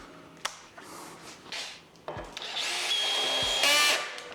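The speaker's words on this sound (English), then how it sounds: "It's drilling through right now." A power drill whirs as it bores through a part during brake pedal tuning, starting with short clicks and bursts, then a sustained rising whine that grows louder near the end.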